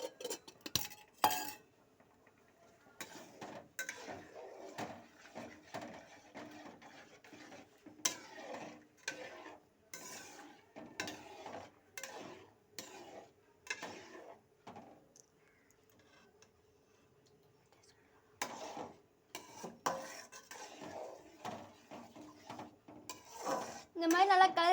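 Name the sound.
stirring ghee into a dish in a pan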